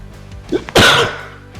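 A single sharp, loud sneeze close to the microphone, with a short inhale just before the explosive burst.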